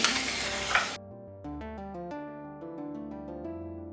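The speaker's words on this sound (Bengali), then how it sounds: "এবারে আমি ম্যারিনেট করে নেওয়া মাংসটা দিয়ে দিচ্ছি।" Marinated beef for a dark, slow-cooked Bengali kala bhuna curry hits a hot wok with a loud, crackling sizzle that lasts about a second before cutting off, followed by soft tonal music.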